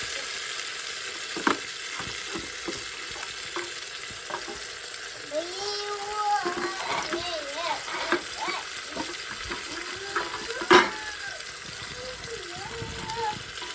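Washed cluster beans (guar) tipped into a hot pan, giving a steady low sizzle with scraping and stirring clatter and a few sharp knocks, while a voice talks over it at times.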